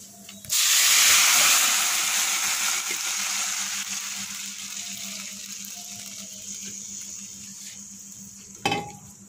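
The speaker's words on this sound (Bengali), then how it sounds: "পেঁয়াজটা ভাজা হয়ে গেছে, আমি এখন সবজিটা ঢেলে দেব।" Vegetables tipped into a pan of fried onions burst into a loud sizzling hiss that slowly fades, ending in a short clatter near the close.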